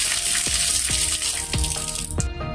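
Water gushing loudly from a newly connected pipe after the main supply is opened in a plumbing workshop, a steady close hiss and splash with a few sharp drips or knocks.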